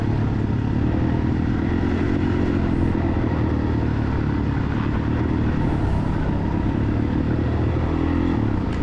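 A 2003 Suzuki DRZ400 motorcycle races a motocross course, its engine a continuous rough drone with shifting throttle and some clatter, fairly close and steady throughout, with no talking.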